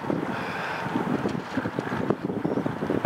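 Wind gusting across a sailing lake at a model yacht club championship, a steady rushing roar with buffeting against the microphone throughout, no voices present.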